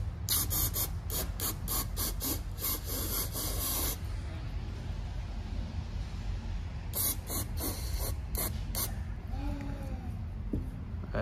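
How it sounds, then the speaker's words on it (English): Bursts of aerosol brake cleaner spray hiss loudly in short pulses into an injector bore of a CAT C7 diesel engine, then a long continuous spray, followed by more quick sprays with light clinking. "We're gonna spray it out with a little brake clean."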